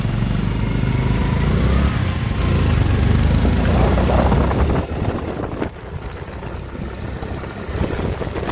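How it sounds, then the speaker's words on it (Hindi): A motorcycle engine drones steadily while riding along a road, loud and close with heavy wind buffeting the microphone, the roar easing slightly midway as the ride continues. "तो बाइक हमने कर दिया स्टार्ट,"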